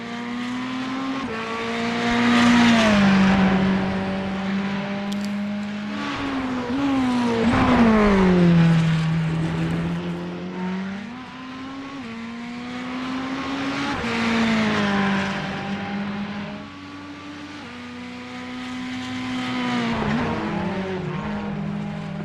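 A Ferrari race car in DJC livery, driven in the iRacing sim, roars loud and continuous, its engine pitch climbing and dropping repeatedly through gear changes and corners.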